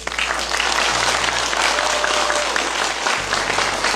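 An audience claps in a steady, dense burst of applause that holds at an even level throughout, with a low electrical hum underneath.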